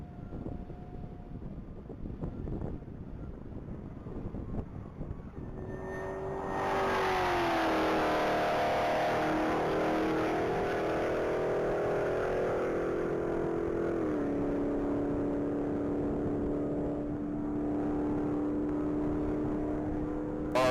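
Supercharged Hennessy-tuned Jeep Trackhawk on a Texas Mile top-speed run, its engine note swelling into a loud, sustained wail that climbs steadily through long gear pulls, with wind buffeting the microphone throughout.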